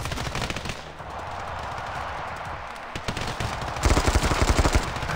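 Rapid automatic gunfire from the mobile shooter game Standoff 2, dense bursts of loud shots running throughout with a heavier, punchier volley near the end.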